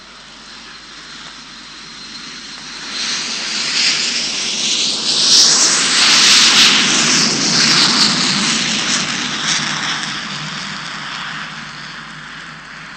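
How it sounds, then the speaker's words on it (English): A Caravelle jet airliner with Rolls-Royce engines approaches and passes, its engine roar swelling to a loud whining hiss in the middle, then fading away. "That one was a Caravelle, pride of France and powered by Rolls-Royce engines"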